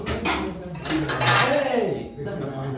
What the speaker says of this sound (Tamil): அப்ப இத காய்ச்சறதுக்கு ஏத்த மாதிரி பாத்திரம் தேடுறோம்